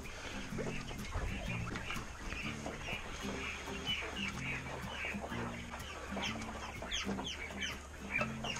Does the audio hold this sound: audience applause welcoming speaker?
no